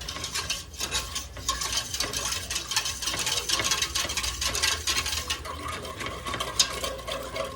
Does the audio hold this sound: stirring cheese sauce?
yes